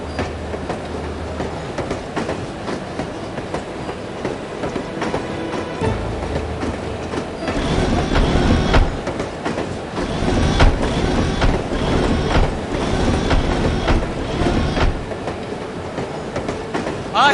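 A train ride in the PC spy game The Operative: No One Lives Forever, with a steady rumble of railcars and wheel clatter running throughout, growing louder midway, while voices talk faintly over it.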